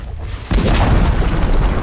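A tower collapsing in the Dota 2 video game lets out a single heavy booming explosion that strikes abruptly about half a second in, then keeps rumbling loudly and densely to the end with no voices.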